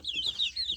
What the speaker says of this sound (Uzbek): Hozir bu yerda 13 ta jo'jamiz bor.